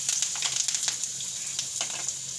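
Ginger-chili paste and curry leaves sizzling in hot oil for vada pav filling, a steady close crackle with scattered sharp pops and a faint low hum throughout.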